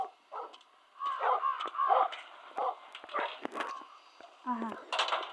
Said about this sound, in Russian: Собака, ты не гавкай.